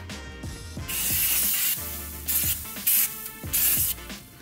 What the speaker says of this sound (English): I'm gonna use my baking spray and kind of sear off that grill grate